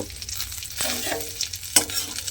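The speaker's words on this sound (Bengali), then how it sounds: "এবারে কাজু বাদামটাকেও একটু খুব ভালোভাবে ভেজে নেব" Chopped cashews frying in ghee, a soft close sizzle with a couple of sharper spoon scrapes and clinks in the pan, and no talking.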